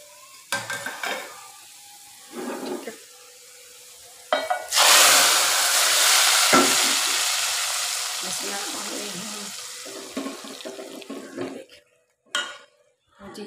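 Hot oil sizzling loudly as a tadka tempering for dal hits the pan, a strong hiss that swells, holds for several seconds and slowly fades, with utensil clinks before and after.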